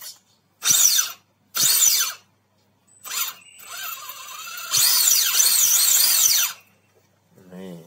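The electric motor of an HSP 1:10 RC buggy revs loudly in several sharp bursts, rising and falling in pitch and whining close up, with one longer sustained run and pauses in between.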